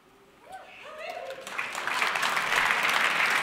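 Applause from an awards ceremony audience swells from a few scattered claps into a dense, loud clapping that holds steady, with a voice speaking faintly over the start.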